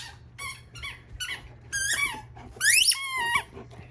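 A dog squeezes a squeaky toy indoors, producing a series of sharp, irregular squeaks in short bursts, the loudest near the end, over a faint background hum.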